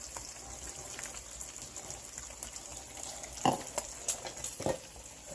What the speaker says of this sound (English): I'm going to go ahead and whisk in that cheese in here with this, make our sauce nice and creamy.